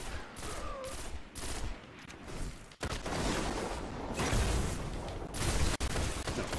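Automatic gunfire bursts and impacts from a Destiny Control match on the Twilight Gap map, with close, rapid volleys rising and falling over several seconds amid game effects.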